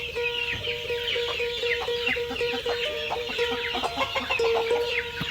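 A brooding hen sitting on eggs clucks repeatedly in soft, close, rhythmic murmurs, with other chicken calls around her on a farm.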